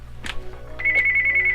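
A telephone rings in the Wizard101 video game, a bright electronic trill that starts partway in and continues steadily after a few brief soft sounds.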